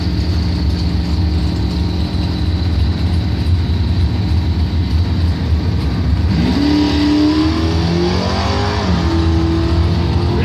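Two drag cars, a street Camaro and a Mopar Dodge Dart, in a Top Doorslammer round at Bonfire Salute: loud steady engine roar throughout, then rising revs and a launch with sweeping pitch climbs in the second half, no talk.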